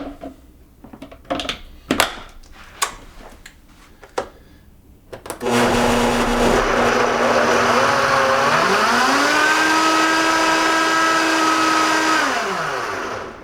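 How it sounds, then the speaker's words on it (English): A few sharp knocks and thuds from handling are followed by a Vitamix blender starting up on kale, strawberry, avocado, banana, pear and water, a loud, close motor roar that climbs in pitch, holds steady, then begins to wind down. "And now we blend."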